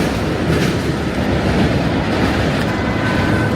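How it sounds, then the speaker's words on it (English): Loud, steady rumble of an elevated train passing overhead in Queens, New York City, with rhythmic clatter of wheels on track and no voices. "More trains overhead."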